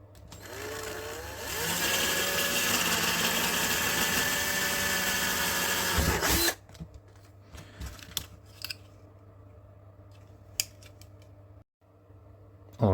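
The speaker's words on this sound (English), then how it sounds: "what I'll do is I'll use a 6mm drill bit to drill through that." A 6mm drill bit bores a hole through a plastic enclosure for a solar-powered repeater build, a loud steady whine lasting about five seconds before cutting off, followed by quieter handling clicks and knocks.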